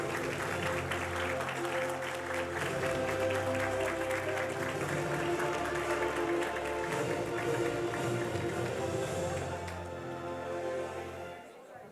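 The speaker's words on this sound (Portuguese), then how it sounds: "Vamos aplaudir a equipe da Universitária FM." At a journalism award ceremony, an audience claps for the winning Universitária FM radio team, sustained applause blended with music playing over it, fading toward the end.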